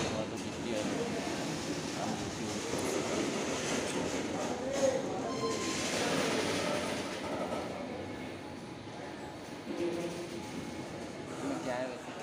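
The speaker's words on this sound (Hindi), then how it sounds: "इतना लंबा ट्रेन मैंने लाइफ में पहली बार ट्रेन देख रहा हूँ सामने से भाई।" A long passenger train rolls through Habibganj railway station in Bhopal, giving a steady, close rumble and clatter that holds throughout while voices talk over it.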